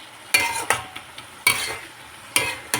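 Shrimp going into a pan of cooking ash gourd, with four sharp metallic clatters of stirring spaced across a soft background sizzle, up close and without voices.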